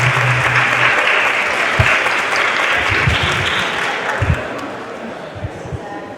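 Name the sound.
audience applauding a group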